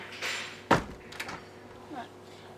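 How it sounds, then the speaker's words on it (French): A door slams shut indoors with a single sharp thud, followed by faint softer knocks, with muffled voices and a dog nearby in a home. "Marine, la porte!"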